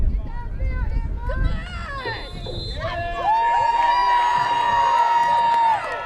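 A big home crowd cheers at a women's football game in New Fairfield, Connecticut, a broad swell of shouting and hubbub that rises midway and holds. An announcer's voice and whistle-like tones sound over it.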